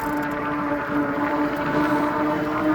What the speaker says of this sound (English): my tires sound like I'm going 50